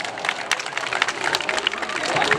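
Crowd clapping and cheering at a jaripeo rodeo in San Pablo Yaganiza, a busy, steady wash of applause with voices mixed in throughout.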